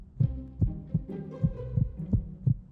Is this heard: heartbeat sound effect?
yes